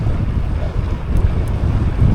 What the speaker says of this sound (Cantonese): 太撚大風啦！